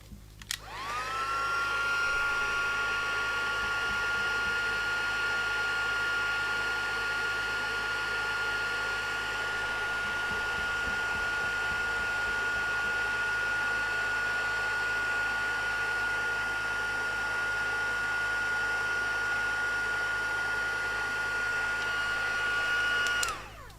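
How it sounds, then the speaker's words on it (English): A heat gun for heat embossing a stamped card blows steadily and loudly for over twenty seconds, a constant whirring hum with a high whine that starts and stops abruptly. "And my heat emboss."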